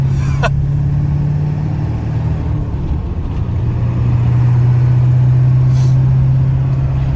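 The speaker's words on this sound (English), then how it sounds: "This truck is so fun to drive." A truck driving, heard as a steady low engine drone with road rumble from inside the cab, continuous and fairly loud throughout with no talk.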